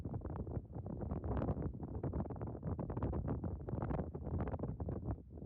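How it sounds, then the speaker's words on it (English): Strong gusting wind roars across a mountainside some 300 vertical feet below a peak summit in the Pecos Wilderness on a fall hike, buffeting the microphone loudly and steadily throughout with no pauses. "God, it is windy."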